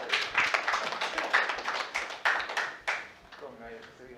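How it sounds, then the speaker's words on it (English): Crowd at a trading summit in Lagos giving a round of applause, scattered loud claps with uneven rhythm that fade after about three seconds as a voice starts speaking. "A round of applause, please"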